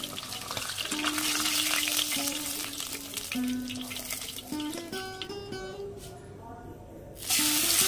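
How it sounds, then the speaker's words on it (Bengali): Puti fish fry in hot oil in a pan, a steady crackling sizzle that continues throughout while a voice is heard over it. "এইভাবে বাকি মাছগুলো ভেজে নেব।"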